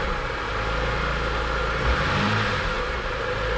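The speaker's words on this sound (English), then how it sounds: "We're gonna give it a little bit of gas." A BMW E46 M3 engine idles close by and is given a light blip of throttle, the exhaust swelling briefly into a rougher rev before settling back to its steady rumble.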